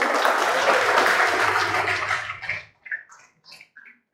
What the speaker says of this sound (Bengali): জোরে আরেকটা হাততালি হোক।